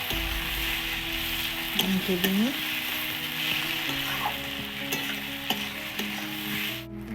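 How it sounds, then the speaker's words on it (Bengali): Chopped onions and tomato sizzle and fry in a pan while a utensil stirs them now and then, a steady close crackle with occasional scraping knocks. "পেঁয়াজগুলো একটু ভাজা হয়ে গেছে এর মধ্যে এবার টমেটোটা দিয়ে দিচ্ছি"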